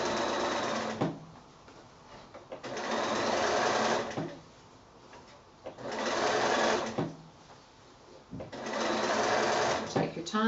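Sewing machine stitching a quilted fabric bag made from 6-inch squares, running in several close, steady bursts separated by short pauses.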